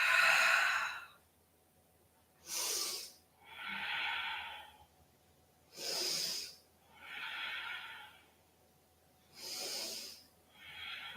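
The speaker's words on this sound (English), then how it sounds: "All the way down, breathe out." Slow, audible exhalations through the mouth during a yoga lunge sequence, several long breathy sighs spaced a few seconds apart, close and alone with no talking.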